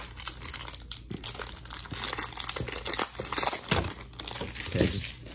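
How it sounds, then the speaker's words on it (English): Crinkling plastic wrap on a YJ MGC 5x5 Rubik's cube box is snipped and torn open with a nail clipper, giving a steady close crackle with small snips and rustles and no talking. "time to use a nail clipper now"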